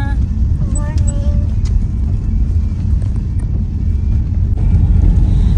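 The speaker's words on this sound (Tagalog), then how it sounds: "Lakas ng ulan, lakas ng hangin." Heavy rain and strong wind buffet a moving car on a morning drive to school in the UK, a loud steady rumble of road and wind noise with faint tonal chirps and voices in the cabin.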